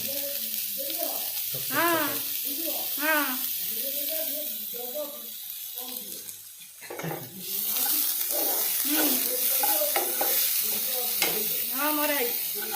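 Chilli, garlic and onion fry for momo filling, giving a steady bright sizzle with occasional stirring while a person talks over it the whole time.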